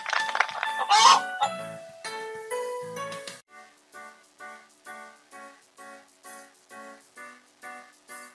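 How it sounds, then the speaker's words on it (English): A cartoon chicken in a kids' puzzle game clucks in a run of short, evenly spaced calls after a brief burst of jingling game sounds. "Chicken."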